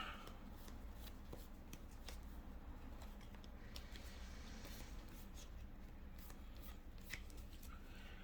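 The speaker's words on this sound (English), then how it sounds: "After I put my cards in order." Trading cards for a Stardust Chaos Assault deck are sorted and shuffled by hand, a soft, close run of quick papery riffles and flicks lasting several seconds with no talking.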